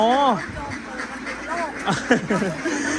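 Young laying ducks quack repeatedly close by in a former pig shed in Bang Saphan, Prachuap Khiri Khan, Thailand, a few loud calls at first and then a busy cluster, with people talking alongside.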